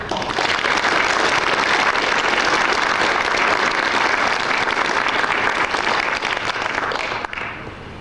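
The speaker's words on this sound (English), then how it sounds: "we should give them all a big round of applause." Sustained audience applause at a 1996 space development conference awards ceremony fills the hall, steady and loud for about seven seconds before tapering off.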